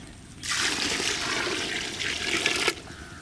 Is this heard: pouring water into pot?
yes